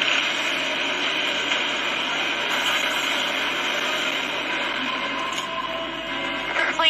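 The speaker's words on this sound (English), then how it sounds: "Plane's gaining altitude." A plane's engines drone steadily and loudly as the aircraft gains altitude in the Resident Evil 6 video game, with a constant broadband roar and no voices.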